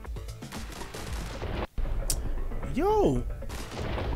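Gunfire in The Hong Kong Massacre video game, a flurry of sharp shots in the first seconds, a brief drop to silence, then a dense crash of action, with a voice speaking briefly and a rising-falling whine near the end.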